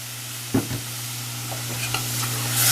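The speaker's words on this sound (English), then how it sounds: "And stir that in there really well" A spoon stirs stock into a macaroni and cheese sauce in a pan, with a couple of soft scrapes and clacks over a low steady hum and faint simmering hiss, rising slightly at the end.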